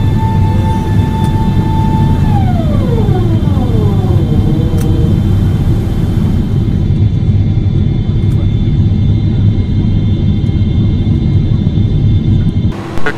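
An iniBuilds A300-600R airliner lands in Microsoft Flight Simulator 2020 with a loud steady engine and airflow rumble, tones winding down in pitch as power reduces, and a couple of short clicks along the way.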